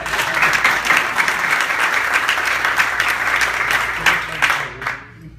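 Audience members at a theater debate with a playwright break into loud, sustained applause. Thick, close clapping holds steady, then thins into a few last claps before stopping abruptly.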